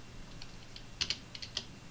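Light typing on a computer keyboard while editing an invoice template, a few soft scattered key clicks with a small cluster in the middle, fairly quiet and with no speech.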